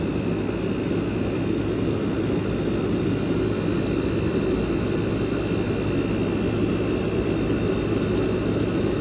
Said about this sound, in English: External airflow, we got a decent amount of power. Typical of your Super Thrust air conditioners.